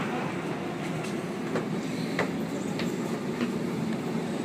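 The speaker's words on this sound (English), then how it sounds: "M set arriving into platform 3." Sydney Trains M set electric train arriving at platform 3 at Glenfield station, a steady rolling rumble with rhythmic wheel clicks and faint squeals as the carriages pass close by, no talking.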